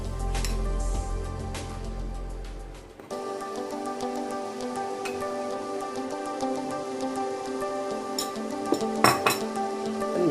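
Pancake batter being mixed with flour in a bowl for American pancakes, a steady wet clatter of utensil against bowl with small clinks and scrapes, close and continuous, no voices.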